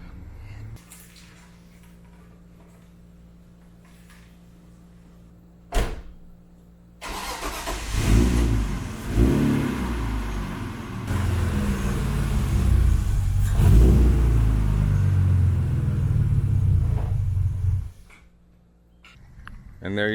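A car engine starts and drives into a home garage, rumbling loud and close for about ten seconds before cutting off, with a quieter stretch before it.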